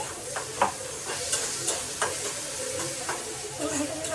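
Tomatoes going into frying onions in a pan for an Indian dried-fish sukat dish, a steady soft sizzle with a few light stirring knocks and scrapes.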